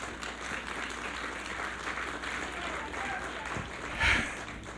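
Audience applause at a history book talk in Mexico, a steady wash of many hands clapping throughout, swelling slightly near the end, with no voices over it.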